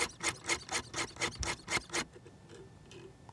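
About ten quick, evenly spaced strokes of a Wicked Edge sharpener stone rasp along a practice knife blade, close and fairly faint, followed by a few softer scrapes.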